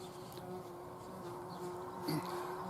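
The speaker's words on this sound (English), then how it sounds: "Being attacked by a bee." A bee buzzing around on an allotment plot, a steady thin drone that drifts nearer and farther and swells briefly as it passes close, over quiet outdoor ambience.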